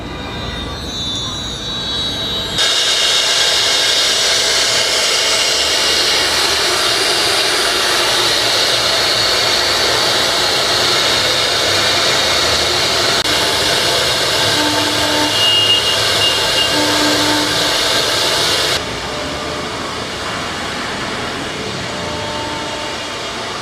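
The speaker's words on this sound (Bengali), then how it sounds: "এখন আমরা মেশিনের ডিজাইনটি চালু করছি, আপনারা দেখতে পাবেন এখন ডিজাইনটা চালু হবে।" A CNC machine with an AC servo EtherCAT controller runs with a steady, loud mechanical whir and hiss. The tone holds level for about sixteen seconds, then shifts slightly quieter, with faint tonal whines underneath.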